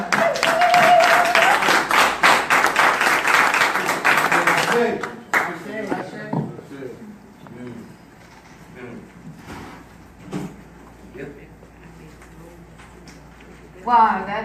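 A convention audience at a reparations gathering bursts into loud applause and cheers after a speech, clapping dense for about five seconds, then stopping abruptly as a speaker talks over scattered claps and a brief final burst.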